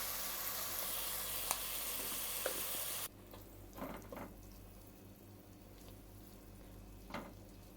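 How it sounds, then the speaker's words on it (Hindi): Mutton frying in a karahi for a ginger karahi dish, a loud dense sizzle that drops sharply to a quieter crackle with occasional stirring scrapes, close up and without speech. "अच्छे से हमने गोश्त को भून लिया"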